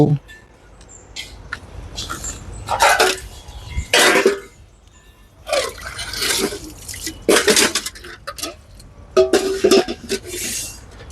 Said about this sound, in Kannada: ಪಾತ್ರೆ ಕಡಗಬೇಕು, ತೊಳಿಬೇಕು.